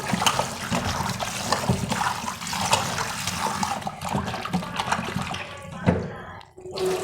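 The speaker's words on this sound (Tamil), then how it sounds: "இப்போ தண்ணி கொஞ்சம் விட்டு" Tap water is poured over raw country chicken being washed with turmeric in a kitchen, a close, uneven splashing and trickling into a vessel that surges and fades, briefly stopping near the end.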